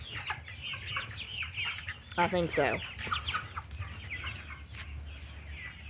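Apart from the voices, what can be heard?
rooster and hens clucking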